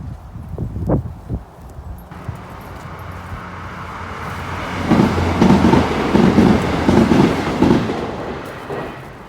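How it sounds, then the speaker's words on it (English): Train passing along a busy rail line near a litter-strewn roadside spot, a steady rumbling roar that swells midway with rhythmic wheel clatter, heard outdoors at moderate distance with no talk. "Very busy train line."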